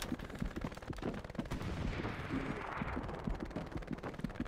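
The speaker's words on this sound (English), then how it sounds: "I'm being shot at." Dense, sustained gunfire in the World War II shooter game Hell Let Loose, rapid automatic bursts and cracks overlapping continuously with a low rumbling background, loud and close throughout.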